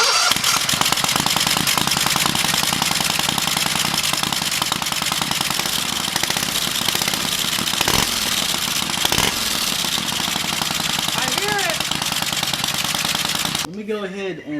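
Freshly fitted mini turbo on a 670cc V-twin buggy engine running loud and close, a rapid continuous popping, chattering exhaust with revs swelling and dropping, before it cuts out near the end.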